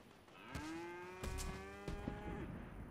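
A cow in the Fortnite video game lets out a single drawn-out moo, clear and fairly close, between short bursts of game noise.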